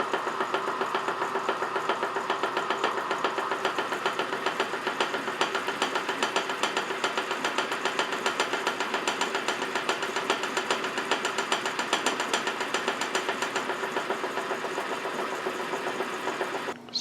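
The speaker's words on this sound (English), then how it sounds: "It looks like the super glue's holding, so I'll continue milling the sides now." An Atlas horizontal mill cuts the sides of a metal bushing held with super glue. It gives a steady, close mechanical drone with an even run of rhythmic ticking for about seventeen seconds, and no one talks.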